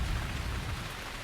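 Steady rain falls with a dense, constant hiss and a low rumble underneath, unbroken and fairly close.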